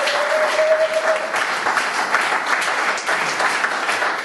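A church congregation applauds steadily through a worship service, a dense, continuous wash of clapping at close range with no pauses.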